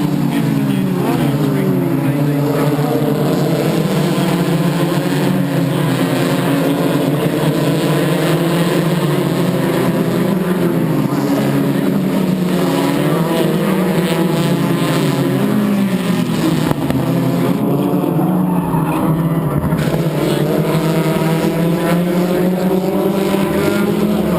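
Race cars at the 2014 Shannons Nationals at Winton circuit roar continuously, engine notes rising and falling as cars pass, loud throughout with a race commentator talking over them.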